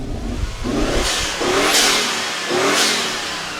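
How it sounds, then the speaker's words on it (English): A Fiat Coupe 20v turbo fitted with a K&N air filter revs up three times in quick succession, each loud, close rise of engine and intake roar falling back toward idle between blips. "If you guys want to hear what a K&N sounds like, I'm going to demonstrate it for you. Give it a rev, Jeeves!"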